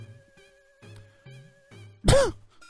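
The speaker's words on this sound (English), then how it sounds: "Sorry, I had to clear my throat there." A single sharp, close throat clearing bursts out near the end, following a few quiet moments of faint background tones.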